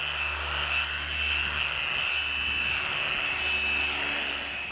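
A car polisher runs on low speed with fine Meguiar's Ultimate Polish to lift water spots, a steady whining hum with a constant high tone, loud and close throughout, no voices.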